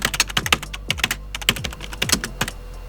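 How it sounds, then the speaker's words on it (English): Fingers type on a computer keyboard in quick, uneven bursts of crisp key clicks, close and fairly clear, with no voices. "Sorry, I thought I could hear you typing."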